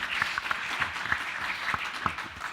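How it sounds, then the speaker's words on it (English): A conference audience applauds with a steady patter of many hands clapping at moderate distance, continuous and even throughout. "you can clap as you wish"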